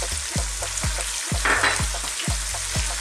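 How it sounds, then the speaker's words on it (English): Sliced onions hit hot oil in a pan along with minced garlic and ginger, giving a steady close sizzle with repeated rhythmic stirring or scraping thumps, no voices. "Let's also go in now with some sliced onions."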